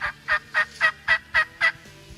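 Wild turkey gobbling in spring woods, a run of seven rapid, loud rattling gobbles in an even rhythm, fairly close and with no talking.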